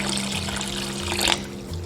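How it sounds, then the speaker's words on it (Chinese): Clean water poured in one go into a stew pot holding torn silver ear fungus for a sweet soup, a steady close trickle and splash with a low hum underneath. "接着一次性倒入足量的清水"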